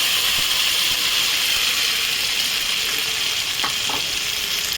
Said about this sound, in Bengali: আমি এই মিশ্রণটা তেলে দিয়ে একটু নাড়িয়ে নেবো